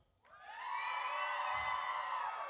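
Convention audience at an Emerald City Comic Con 2013 panel with Misha Collins bursting into cheering and whooping, a sudden loud swell of crowd noise that holds steady to the end.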